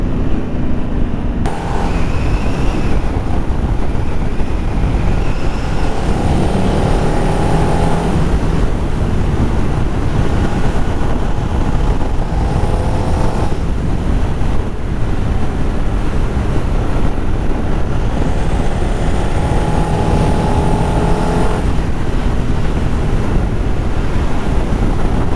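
A 13-year-old Ducati motorcycle ridden at speed, its engine note buried under steady, loud wind rush, with faint rising and falling rev tones across the ride.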